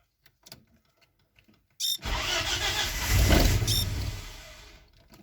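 A Volvo 850 engine cranks and catches, then idles loudly and steadily close by, its rumble swelling slightly before easing, with a faint squeal at the start.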